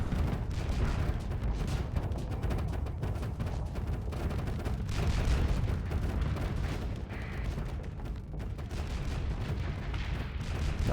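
Sustained, dense barrage of cannon shells firing in the space combat game Starsector, heavy continuous booming and crackling for the whole stretch, loud and close with no talk.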